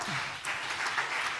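A church congregation at a JMCIM preaching service claps, producing a dense, fairly distant wash of applause that keeps a steady level for the whole moment.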